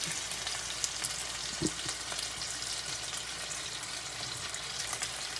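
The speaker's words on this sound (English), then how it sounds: "We're gonna be frying this here in a little bit." Milkfish frying in a pan, a continuous crackling sizzle with small pops and an occasional light clink, steady and close.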